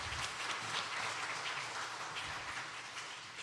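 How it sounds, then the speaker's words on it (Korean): Church congregation applauding during a Sunday sermon, a steady, dense wash of clapping from many hands that holds evenly for the whole stretch without any voices over it. "여러분들 박수 한번 보냅시다."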